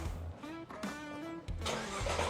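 A 2018 Nissan GT-R with a full exhaust cranks over on a push-button start and catches, a short rising whir followed by a deep, loud idle rumble, with no voices.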